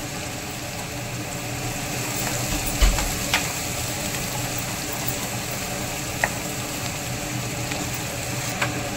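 Garlic, cumin and ginger paste with curry leaves frying in oil, a steady close sizzle with a few faint clinks and scrapes, no talking.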